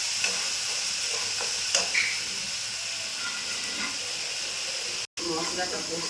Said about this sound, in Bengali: মশলাটা কষে নিচ্ছি।